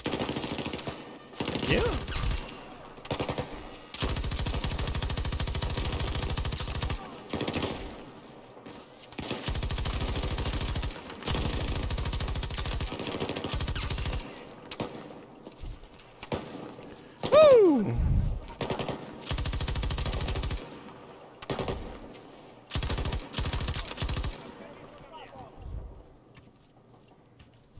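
Bursts of suppressing gunfire in a video game, repeated loud rattling volleys separated by short gaps over nearly half a minute, with voices speaking between them.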